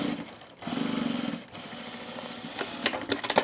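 Sewing machine top stitching thick, lumpy fabric on men's cargo shorts, a close, loud mechanical run of about a second, then a pause and rapid clicks and short bursts.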